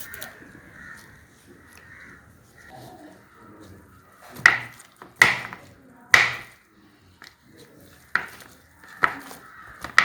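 A knife or spoon cuts and breaks up gel in a container while homemade milk soap is being made. Several sharp, close knocks and scrapes come irregularly over a quiet background.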